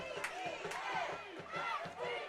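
A high school basketball crowd in a gym yells and cheers in rising waves, with rhythmic chanting pulses and excited voices layered under one another, loud and close throughout.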